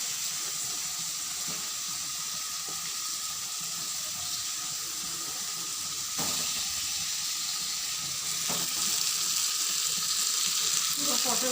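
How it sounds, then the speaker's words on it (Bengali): Pointed gourd and onions sizzle in a pan while being stirred, a soft, even frying hiss that rises slightly toward the end, with no talking over it. "এবার একটু নাড়াচাড়া করে এটাকে ভালোভাবে করে এবার দিয়ে দিচ্ছি পটল।"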